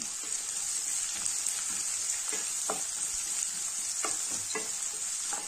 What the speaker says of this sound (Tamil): இதுல 2 பெரிய வெங்காயத்தை கட் பண்ணி வச்சிருக்கேன். இது சேர்த்துடலாம். இதை வணக்கிக்கலாம்.